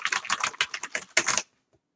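Keys mashed rapidly on a Commodore 64 keyboard, a dense burst of clattering plastic keystrokes for over a second, close and distinct, then stopping abruptly.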